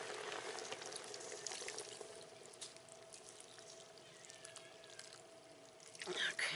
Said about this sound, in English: the other 12 ounces of water. And I'm going to go on and pour that in.